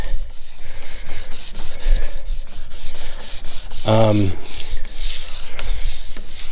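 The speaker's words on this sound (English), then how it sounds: "I'm just going to sand enough to get a couple of the spots cleaned up" A polyurethane-coated wooden table is hand sanded in rapid back-and-forth strokes, a close, loud, rhythmic rasping that runs throughout with a short tonal squeak partway through.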